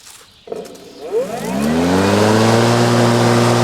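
A Sun Joe 40-volt iON 16LM cordless electric lawn mower, reconditioned, starts up and settles into a steady, fairly loud hum of about 70 dB as it runs over grass nearby.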